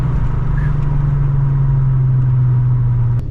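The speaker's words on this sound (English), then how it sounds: "it's worth keeping the window down just to hear that exhaust note" A VW GTI engine drones loud and close with a low steady exhaust rumble, holding an even pitch throughout.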